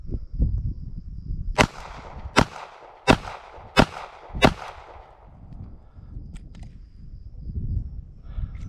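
Five sharp, loud shots from a Smith & Wesson Model 649 snub-nose revolver, fired at a steady pace about a second apart, with quieter handling noise before and after.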